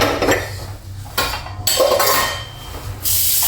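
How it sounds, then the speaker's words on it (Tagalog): Plates and dishes being washed by hand, with clattering pots, clinking cutlery and short bursts of running water, close and irregular, no voices. "So, yung mga kainday ko, maghugas muna tayo ng plato."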